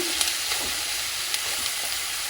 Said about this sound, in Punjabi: ਆਪਣੇ ਥੋੜੇ ਜਿਹੇ ਪਿਆਜ਼ ਦੇਖੋ ਬਰਾਊਨ ਹੋਣ ਲੱਗੇ